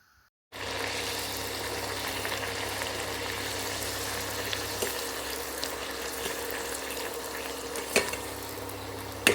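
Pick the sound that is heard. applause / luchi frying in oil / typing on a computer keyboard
luchi frying in oil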